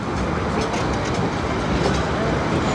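The West Side Lumber Shay #9 locomotive hauls a train on the Georgetown Loop Railroad, a close, dense, continuous rumble of rolling cars and wheels on track with no pauses.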